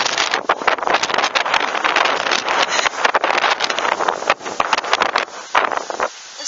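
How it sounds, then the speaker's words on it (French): Strong storm gusts from Storm Hans in Tour-en-Sologne, France, batter the microphone in a loud, continuous roaring rush with sharp crackling bursts, easing briefly near the end, with no voices. "on a des rafales encore plus fortes que dans l'Indre-et-Loire"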